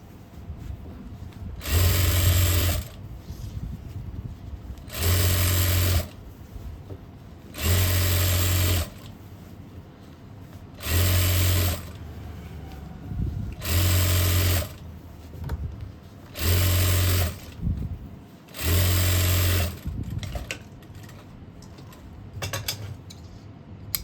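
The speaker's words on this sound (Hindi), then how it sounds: "और ऐसे सिलाई लगाते रहना है सेंटर में।" A sewing machine runs a centre seam through fabric for an Afghani-style palazzo, sounding in seven loud bursts of steady motor whir, each roughly one to two seconds long, separated by brief pauses while the cloth is pulled and repositioned.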